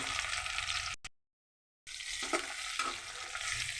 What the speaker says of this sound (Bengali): আমি একবারে এটাকে ফোড়ন দিচ্ছি আর সাথে আমি এখানে কিছু কাঁচামরিচ দিয়ে দিলাম